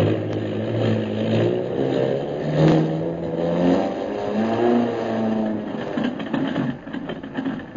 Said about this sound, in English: Turn the motors over, pilot.